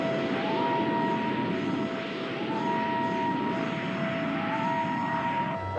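A jet aircraft engine runs at high speed in a TV series, a steady broadband roar with thin whining tones that sweep upward again and again, held loud and close throughout with no talk.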